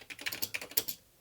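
Rapid keystrokes on a Commodore 128 keyboard's numeric keypad, a quick run of about a dozen sharp, close plastic clicks in an uneven rhythm that stops abruptly, with no talking.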